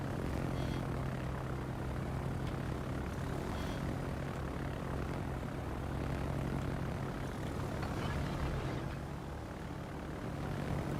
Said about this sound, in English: Attacker aircraft